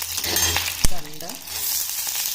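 Chopped onion with mustard seeds and chili sautés in hot oil, a steady close sizzle broken by one sharp clink of a utensil near the middle.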